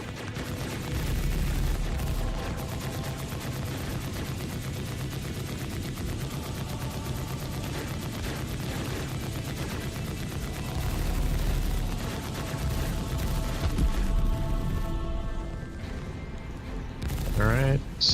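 Ship weapons in the space game Star Citizen fire rapid, dense bursts of gunfire over a loud continuous engine rumble, with voices talking over the action.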